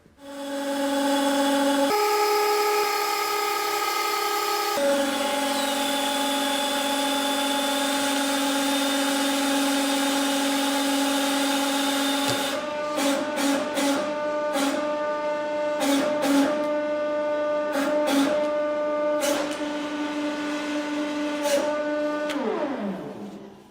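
A hydraulic press slowly crushes an engine part, its pump motor giving a steady tonal whine throughout, with a cluster of sharp clicks and cracks partway through before the hum winds down.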